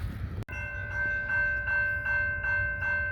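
CSX freight train I-141 rushing past at speed on a rainy day in Miamisburg, a steady close rumble with sustained horn-like tones and rhythmic swells, after a sharp knock at the start.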